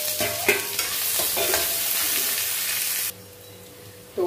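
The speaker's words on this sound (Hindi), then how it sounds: "इन सबको डाल करके अच्छी तरीके से भून लेंगे।" Chopped onion, green chili and garlic frying in a pan, a sizzling crackle with a few stirring clatters, loud and close, then the sizzle drops away abruptly before returning at the end.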